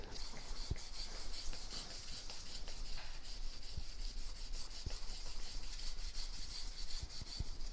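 Sandpaper rubs back and forth on a lacquered wooden piece in a fine sanding finish, a steady close scratchy hiss with small ticks, no talk.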